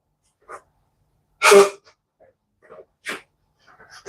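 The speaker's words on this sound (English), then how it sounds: "Excuse me, I got to sneeze." A single loud, sharp sneeze stands out, with quiet sniffs and soft breaths before and after it.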